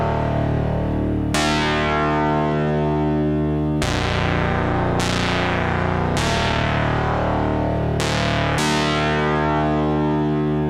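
A buzzy, harsh modular synth tone from pulse-width modulation run at audio rates, with sharp attacks recurring every second or two, each note decaying into a long, washy reverb tail.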